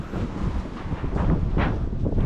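Strong wind buffets the microphone on a small boat, a continuous rough roar with gusty swells and possible wave wash underneath.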